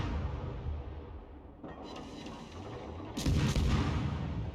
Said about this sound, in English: Let's try to hit them with the guns.